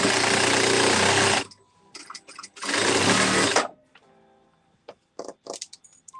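A sewing machine stitches fabric for a holiday table runner in two loud, sustained runs of rapid whirring, then pauses filled with short bursts of stitching and clicks.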